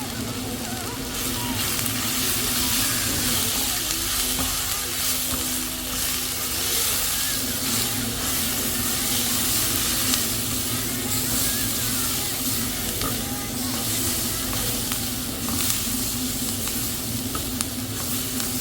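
Prawns frying in a pan as chilli and turmeric masala is stirred in, a steady dense sizzle running throughout with a low constant hum beneath, no voices.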